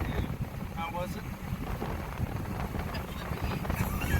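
A ferry crossing to or from Cape Lookout, North Carolina, in strong wind, giving steady engine rumble, wind buffeting and splashing water, with voices talking over it.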